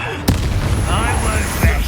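A Bombarda spell explodes in Hogwarts Legacy with a sharp, loud boom and a rumbling tail, followed by a second heavy blast over ongoing game noise and voices.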